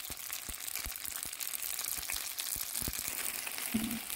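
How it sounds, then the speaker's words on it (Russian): Pasta frying in butter in a pan gives a steady close sizzle with scattered crackles and pops throughout, no voices. "беру где-то грамм 10 масла. Сюда выкладываем теперь наши макароны."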